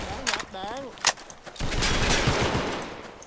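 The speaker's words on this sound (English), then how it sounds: "Just shooting at already dead people." Gunfire rings out in the Roblox Vietnam War shooter Unit 1968: Vietnam as a few sharp shots followed by a longer burst of rapid fire, loud and close, with a voice speaking briefly over the start.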